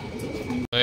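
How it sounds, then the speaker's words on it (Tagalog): Pigeons cooing close by in a loft, soft low calls running continuously through a brief moment, with an abrupt cut near the end. "Ito yung mga kalapati natin."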